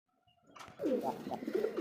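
A single almond-coloured Bombai pigeon coos close by, one soft, low, throaty burst rising out of near silence.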